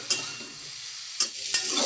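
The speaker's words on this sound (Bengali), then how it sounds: "আরও 2 থেকে 3 মিনিট সবজিটাকে ভেজে নেব।" Low steady sizzle of vegetables frying in a pan, broken by a few sharp scraping clatters of a spoon stirring.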